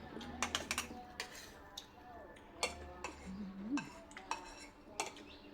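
A metal spoon clinks against a pot while a mushroom curry with bamboo shoots cooks: scattered, faint, sharp ticks and taps in irregular bursts, with a soft voice murmuring in the background.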